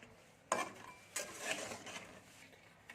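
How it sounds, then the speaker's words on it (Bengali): Fried lentil pitha with coconut filling gently stirred in sweet syrup in a pan, soft scraping and sloshing with a few brief utensil knocks against the pan, quiet and close. "এবার আস্তে আস্তে আমি এটাকে নেড়ে নিচ্ছি যাতে সবগুলোতে পুরো মিষ্টি রসটা লেগে যায়"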